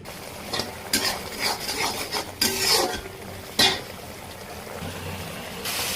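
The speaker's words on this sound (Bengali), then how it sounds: "5 মিনিট ভালো করে কষিয়ে নেব মশলা" Masala of turmeric, chili powder and salt sautés for a deshi chicken bhuna, with several distinct spatula scrapes and stirs against the pan over a low sizzle, close and fairly loud.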